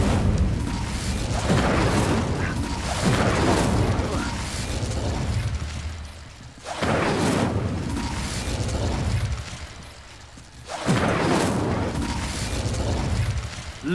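Incendio fire spell cast in the Hogwarts Legacy video game: three loud, roaring bursts of flame, each lasting a few seconds and separated by brief dips, booming and close with no voices.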